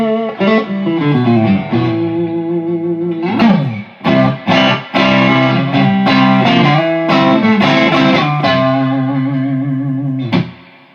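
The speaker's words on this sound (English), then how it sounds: "I got a blues driver here too. Let's just hear that real quick." An electric guitar played through a Blues Driver overdrive pedal into a Music Man HD-150 amp, sustained chords and bent notes ringing out loudly with gritty drive, with brief pauses between phrases.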